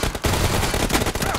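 Gunfire from a battle in the mobile shooter BGMI, a dense run of shots and bursts crackling steadily across the moment, loud and close with no talk over it.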